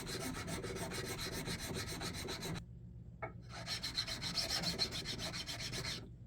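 A metal file rasps back and forth across a new spokeshave sole in steady, close strokes, breaking off into a brief pause before the filing resumes.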